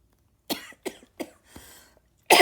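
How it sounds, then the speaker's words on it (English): Four short, sharp coughs in quick succession from a woman reading aloud, close and clear, followed by a louder burst at the end. "See, that made me cough."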